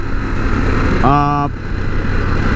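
An adventure motorcycle engine drones steadily while riding on backroad twisties, a loud continuous rumble broken briefly by a short rising harmonic whine in the middle.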